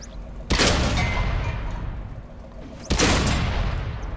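Two loud, sharp tank cannon shots from the Pz.Kpfw. 38 (t) n.A. in World of Tanks on PS4, each a heavy broadband blast with a rumbling tail, fired about two and a half seconds apart.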